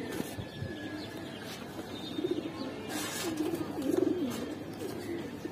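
Giribaz pigeons coo in a soft, rising and falling warble, a few calls swelling toward the end over steady low background noise.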